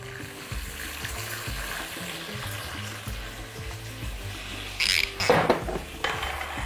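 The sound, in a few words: red semi-sweet wine added to frying lamb, sizzling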